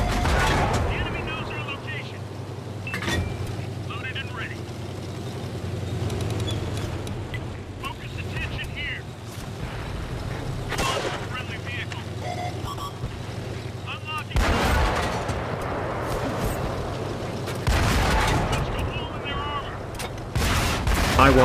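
Repeated booming cannon shots from a Pz.Kpfw. III Ausf. K tank in World of Tanks, several heavy blasts spaced through a noisy battle soundscape, with someone talking over much of it.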